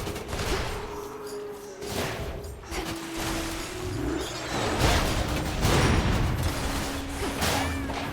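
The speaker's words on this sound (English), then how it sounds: "That's so many bombs! So many bombs!" Many bombs going off in the action game Hades II, a steady barrage of repeated explosive bursts and whooshes layered over game music, loud and continuous throughout.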